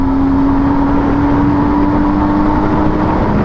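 Inside a car in fourth gear, the engine holds a loud, even drone with a steady tonal hum over continuous road noise, with no talking.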